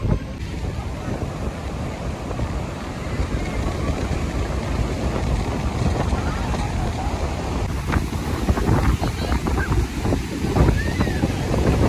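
Sea waves and wind on Puri beach give a steady, loud roar of surf with constant wind buffeting the microphone throughout.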